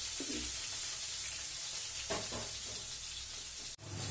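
Continuous crackling sizzle of raw plantain frying in a pan, with a few soft stirring scrapes and no talking.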